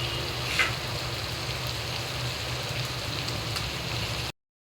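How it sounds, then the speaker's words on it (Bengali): Chital fish koftas sizzle as they fry in a spiced masala, giving a steady, dense crackle that holds at an even level throughout, with one brief louder pop near the start, before the sound stops abruptly. "এখন আমি কোপ্তাগুলো সব দিয়ে দিচ্ছি"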